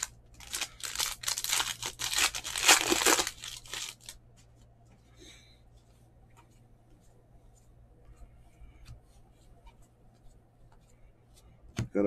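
A pack of 2021 Panini Contenders baseball cards is torn open, a loud crinkling wrapper rip lasting a few seconds, followed by quiet scattered ticks and shuffles as the cards are handled.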